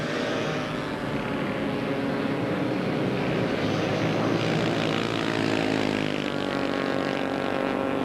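Racing motorbike engine on a beach race track at a 1992 Southport event, revving hard under full throttle as it passes, a loud continuous droning roar that swells and shifts pitch with no talk.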